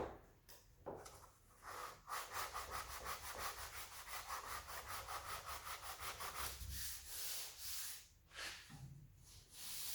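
Block sanding a 1968 Firebird body panel by hand, a steady run of fast, close rasping back-and-forth strokes with brief pauses between passes.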